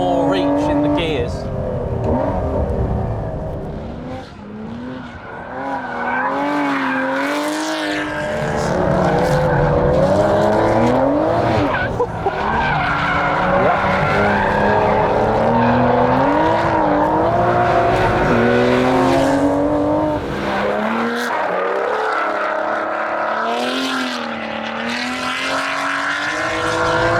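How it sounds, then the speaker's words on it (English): An Aston Martin race car engine revs hard and climbs through the gears, a loud, angry snarling tone rising and falling in repeated sweeps, with a brief lull before pulling again. "One angry Aston."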